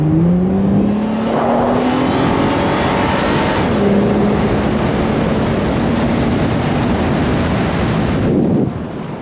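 A Plymouth Prowler accelerates hard from close by, its engine note climbing, dropping abruptly at a gear change, then climbing again with a loud roaring rush of wind and road noise.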